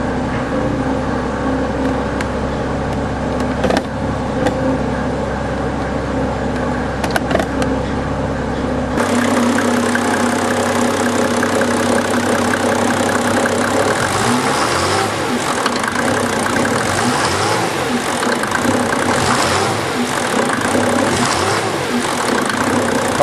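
A 1991 Mercedes W126 350SDL diesel S-Class idles after a genuinely cold start, its steady clattering diesel rumble close and loud throughout, with the engine note shifting partway as it settles.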